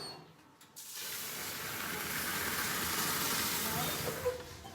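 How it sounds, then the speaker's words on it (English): Boiling water hits a hot oven tray with a sudden loud hiss while baking sourdough baguettes, settling into a steady rushing steam sound that lasts several seconds. "I'm going to put boiling water into the tray or the T-bar that I've got in the oven"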